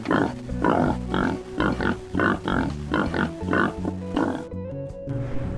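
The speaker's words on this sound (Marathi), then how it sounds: "P for पिग, पिग म्हणजे डुक्कर." A pig grunts and oinks in a quick rhythmic series of about eight close, loud calls, set against a steady tonal background with a brief quieter tail at the end.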